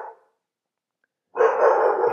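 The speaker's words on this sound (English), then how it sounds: "Sorry about the dog barking in the background." A dog barks in the background, one short bark at the start, a pause of silence, then a louder sustained bark or yelp near the end.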